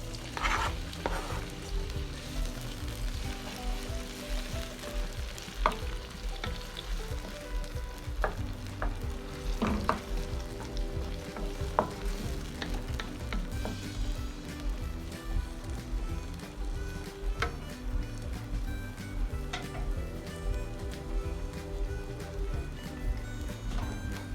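Fresh seasonings frying in heated oil in a home kitchen, a continuous dense sizzle with occasional stirring scrapes and clicks, steady and moderately loud with no talk.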